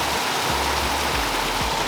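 Water running in a stream at a Washington trailhead, a constant rushing hiss that is close and loud, steady throughout with faint low thumps underneath.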